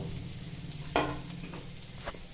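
Boiled jackfruit seeds dropped into hot ghee and stirred, giving a sudden burst of sizzling followed by a steady low frying hiss with faint scraping, no talk.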